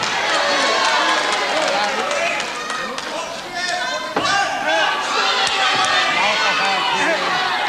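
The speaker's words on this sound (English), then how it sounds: "the City Hall Guildford crowd really starting to warm up to this" A dense, loud wrestling crowd at City Hall Guildford cheers and shouts steadily throughout a 1984 tag-team bout, with a brief dip and a sharp thud midway.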